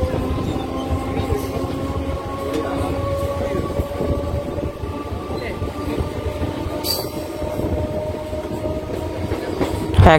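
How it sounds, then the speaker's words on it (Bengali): A local train pulls out of Pandua station between Bandel and Barddhaman, its wheels rumbling and squealing on the rails in a steady loud clatter, with a faint whistle near the end. "একদম সঠিক সময়ে পান্ডুয়া স্টেশন থেকে আমাদের ট্রেন ছেড়ে দিল।"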